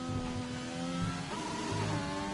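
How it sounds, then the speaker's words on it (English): A Formula 1 car in the F1 2020 racing game on the Australian GP circuit, its engine droning at high revs and bouncing against the rev limiter with a steady, close mechanical buzz that shifts pitch midway. "Hits the rev limiter hard."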